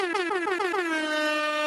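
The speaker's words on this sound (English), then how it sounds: "Have to give air horns to somebody today." Air horn sounding in rapid stuttering pulses that merge into one sustained, loud, harmonically rich blare, heard alone without talk.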